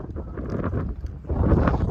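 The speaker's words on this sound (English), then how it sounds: "Right now, as you can probably tell, it's pretty windy" Strong wind blows across a misty, low-cloud hillside at a quarry, a continuous rough buffeting roar that gusts louder near the end, with no talk.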